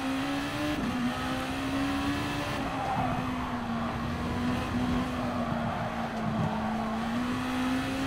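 Turbocharged GR.2 race car engine from GT Sport lapping the Autopolis circuit, a steady loud drone that rises and dips with gear changes across the whole stretch, with faint tire noise and no talking.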